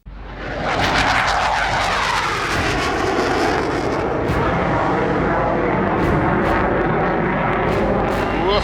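Military jet aircraft climbing almost straight up at high speed, a loud continuous engine roar that swells in and holds steady throughout, close and dominant.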